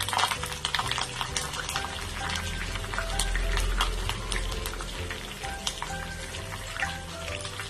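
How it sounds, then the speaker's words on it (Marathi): Green chillies fry in hot oil for a crispy poha chivda, giving a steady, fairly quiet crackling sizzle with scattered pops throughout. "आपलं तेल तापलं आहे त्यात छान आपण मिरच्या घालून घेणार आहोत"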